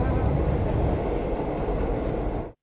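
A passenger train rumbles along in a steady, loud, dense roar that holds throughout, then cuts off abruptly near the end, in a PG Tips tea advert.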